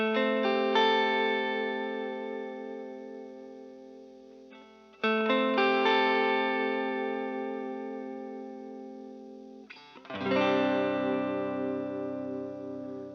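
Sustained electric guitar chords played on the neck pickup ring out three times, each left to decay into a wash of reverb with a lingering, spacious tail.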